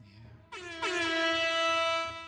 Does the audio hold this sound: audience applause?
no